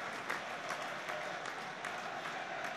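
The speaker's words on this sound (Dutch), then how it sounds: "applaus op alle banken" Steady applause from a big crowd in stadium stands, many hands clapping together in a continuous, slightly distant roar of claps.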